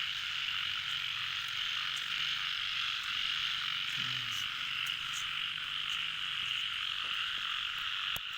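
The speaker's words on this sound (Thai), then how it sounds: "ก็จะมีเสียงกบเสียงเขียดร้องระงมระแงมเลยนะคะ" Frogs croaking in the evening outdoors: a dense, continuous chorus of many frogs with insects trilling alongside, steady and moderately quiet, with a few nearer croaks standing out.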